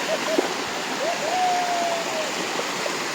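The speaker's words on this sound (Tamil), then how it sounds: "தண்ணி சவுண்ட் நல்லா சலசலன்னு கேட்குது." Water at Tada Falls runs thinly over rocks, making a steady, even rush that holds for the whole stretch. A faint tonal whistle and some soft background sound drift over the flow.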